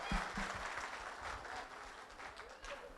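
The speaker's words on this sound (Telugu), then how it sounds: "సూపర్ సూపర్ పర్ఫార్మెన్స్ చప్పట్లు" An audience claps after a children's dance performance at an Ugadi celebration, with a dense, steady burst of applause that carries on throughout and a few sharper claps near the start, heard at low volume.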